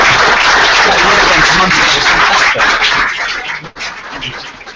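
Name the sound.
audience round of applause for the panel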